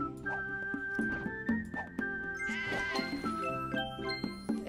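Cartoon sheep bleat in the puzzle game Divide by Sheep, several short wavering calls laid over light jingling game music, with no talk.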